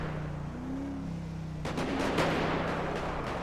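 Gunshots in GTA V roleplay: a steady low rumble gives way to a cluster of sharp reports fired in quick succession, moderately loud and somewhat distant, with a droning tone underneath.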